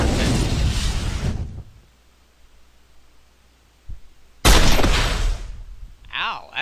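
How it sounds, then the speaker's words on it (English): Video game gunfire from Marvel Avengers Alliance: a loud, sharp burst that decays over about a second, a short gap, then a second heavy blast followed by a brief electronic whirring effect. "that's a pretty peppy gunshot there"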